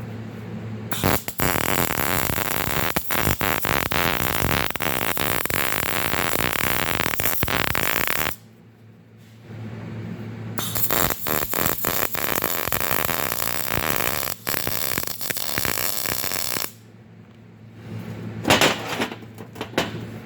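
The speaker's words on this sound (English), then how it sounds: "Now we're going to weld the rest of this edge up and around the corners" The edges of 4-link suspension bars are welded during fabrication, giving loud, close crackling and buzzing in three long bursts separated by short pauses.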